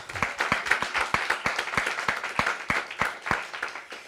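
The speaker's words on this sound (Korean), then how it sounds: "그럼 박수 한번 쳐야지" A revival meeting congregation claps together in a steady rhythmic beat, sharp regular claps repeating at a brisk even pace, loud and close throughout.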